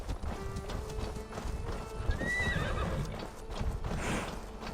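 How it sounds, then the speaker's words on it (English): A horse in Assassin's Creed Valhalla whinnies clearly over steady clip-clopping hooves and a dense game ambience, close and prominent throughout. "If the horse is asking you to hop on it."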